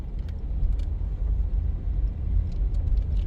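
A car drives through Molynes Gardens in Kingston, Jamaica, on a morning community drive: a steady low interior rumble of engine and road noise, with faint light clicks above it and no talking.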